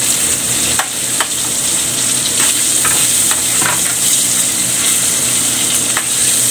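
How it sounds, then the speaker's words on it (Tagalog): Onion for squid adobo with tomato sizzles loudly in a hot pan, a dense continuous crackle with occasional scraping stirs up close. "ilagay na natin yung sibuyas natin guys."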